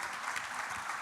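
Audience applause for dancers at a cultural event, a brief, dense burst of steady clapping heard from within the crowd.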